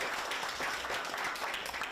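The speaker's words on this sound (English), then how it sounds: "Please give them a clap." An audience at a live panel event applauds the panellists, a dense and steady wash of many hands clapping for two seconds without a break, with no talking over it.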